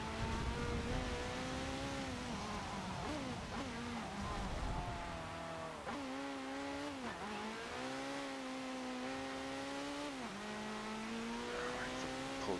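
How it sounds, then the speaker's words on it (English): A race car in a racing video game revs hard under heavy throttle, its engine whine rising and falling in steady harmonic sweeps as the wheels spin up, loud and continuous throughout. "Pull too hard on the throttle, the wheels spin up as well, just like that."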